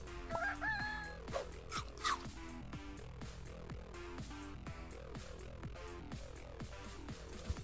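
A cartoon rooster crow from the Super Auto Pets video game, a short synthetic crowing call near the start over steady, rhythmic upbeat game music.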